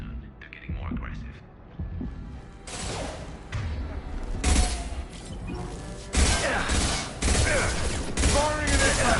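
Gunfire in the video game Mass Effect 2, with loud bursts of shots and impacts arriving in clustered volleys over a low background hum, growing denser and louder toward the end.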